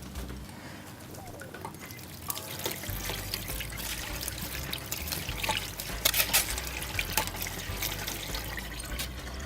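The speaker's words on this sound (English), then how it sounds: "So I'm going to drain the water from the pasta now." Hot pasta cooking water pours through a metal sieve into a sink, a continuous splashing trickle that swells midway with louder gushes, heard close up with no voices.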